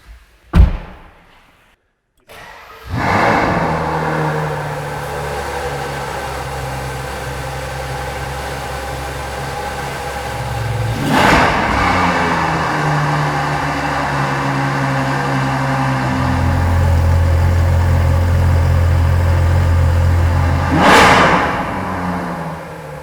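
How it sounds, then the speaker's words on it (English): A Ferrari 812 Superfast V12 engine cranks and fires into a steady, loud idle, with two sharp throttle blips that rev up and drop back. "the last thing that you probably want to see and we all want to hear is the engine startup"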